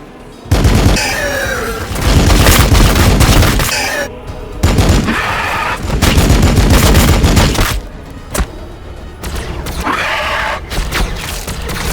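Dense, sustained gunfire and booming shots from Warhammer 40,000 Battlesector, loud bursts of fusillade filling the scene with brief lulls between volleys.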